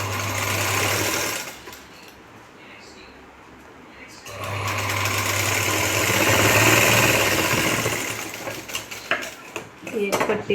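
An electric sewing machine stitches strips onto a Paithani saree blouse, running in two loud steady bursts separated by a pause, ending in stop-start stitching.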